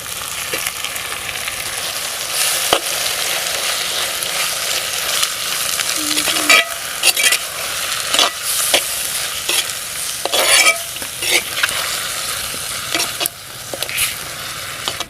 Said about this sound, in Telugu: ఒక చెంచా వెల్లుల్లి పేస్ట్ వేసుకుందామండి ఆ తర్వాత టమాటా కూడా వేసేసుకుందామండి